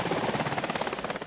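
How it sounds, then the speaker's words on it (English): Black Hawk helicopter close by, a loud continuous rotor wash with steady pulsing blade chop filling the air, no voices. "getting close enough to the helicopter to experience the force the Black Hawk puts out"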